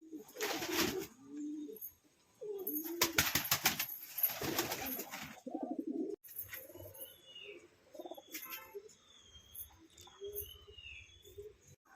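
Pet pigeons kept in a small loft cage give soft, repeated low coos, broken by a few brighter chirps and short bursts of fluttering or rustling close by.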